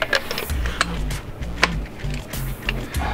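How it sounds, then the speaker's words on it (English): A spark plug socket working on a VW 2.0T TSI engine, giving a series of short ratcheting clicks and metallic taps in uneven bursts, close by, with no talking. "So we're gonna take all of the spark plugs out."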